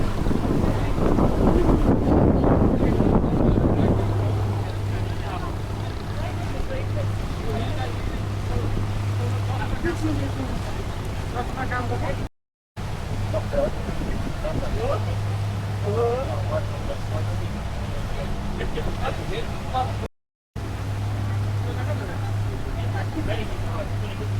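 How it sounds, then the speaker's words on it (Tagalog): A small boat motors steadily across open water at Al Seef in old Dubai, with a low engine hum, wind buffeting the microphone, and water splashing along the hull. "Nakaka-relax talaga sumakay ng bangka."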